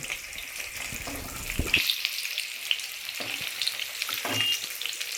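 A chicken kebab fries in a pan with a steady, close hiss of hot oil and occasional scraping stirs. No one talks.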